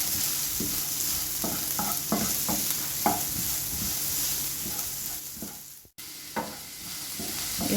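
Onions with ginger and garlic being sautéed in a pan, a steady close sizzle with repeated scraping stirs of a spatula against the pan, briefly cut off and then resuming.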